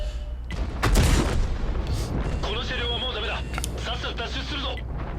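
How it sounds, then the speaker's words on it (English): Tank cannon fire in World of Tanks, with a heavy boom near the start and further shots and impact crackles, all under steady commentary from someone talking. "All these tanks shooting at us, it's ridiculous."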